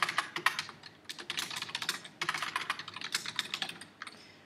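Rapid typing on a computer keyboard, close and fairly soft, a dense stream of light key clicks in quick irregular bursts with brief gaps, no voices.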